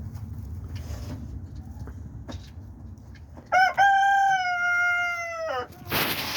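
A farm rooster lets out one loud, clear crow lasting about two seconds after a stretch of faint background noise, followed by a sharp burst of noise at the end.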